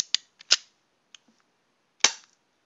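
Gunshots in the Minecraft video game, sharp sharp cracks, two close together, a faint tick, then a final louder shot, each dying away quickly into silence.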